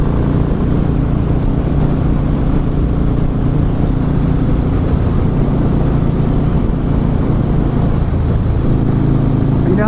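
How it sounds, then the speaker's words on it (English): A Harley-Davidson Fat Boy S motorcycle engine being ridden with the throttle twisted, a loud, continuous low rumbling roar with wind rush, rising slightly toward the end. "The engine makes great noises when you just twist that throttle."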